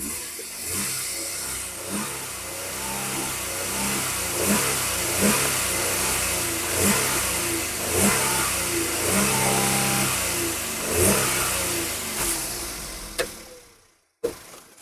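A 2022 Citroen C3 petrol car engine runs close by with a steady mid-pitched drone and rhythmic pulsing throttle swells, then cuts off abruptly near the end, followed by a brief knock.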